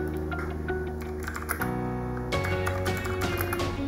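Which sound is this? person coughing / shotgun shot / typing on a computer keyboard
typing on a computer keyboard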